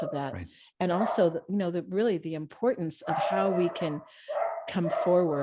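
Household dogs bark and yip in the background, breaking through repeatedly beneath someone speaking steadily at close range.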